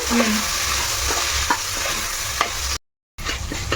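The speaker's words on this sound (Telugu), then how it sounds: "ఇప్పుడు నేను మూడు టమాటాలు ఇలా కట్ చేసుకున్నాను పెద్ద సైజువి ఇవి కూడా వేసుకుంటున్నా ఇవి కూడా కొంచెం మగ్గాలమ్మా" Tomatoes frying with ginger paste in a pan for paneer pulao: loud, close sizzling with scraping stirs and a few sharp ticks, a brief dropout near the end, then the sizzle resumes.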